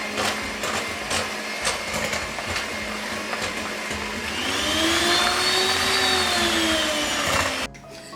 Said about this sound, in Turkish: Keki için çırpıyorum.